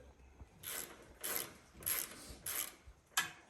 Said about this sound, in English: The socket is an 11/16. I got an extension, the ratchet here. So I'm gonna loosen these